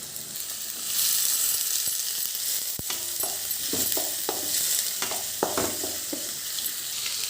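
Chopped onions fry in a pan for egg rice, a steady sizzle with a series of light tapping and scraping stirs from a spoon, close by.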